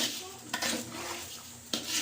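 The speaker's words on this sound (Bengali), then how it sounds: "পোলাও চাউল ভাজা হচ্ছে আর পাশে মাংস হচ্ছে" Polao rice fries in a pot at an outdoor picnic while a spoon stirs it, soft sizzling beneath two distinct metallic scrapes against the pot's side.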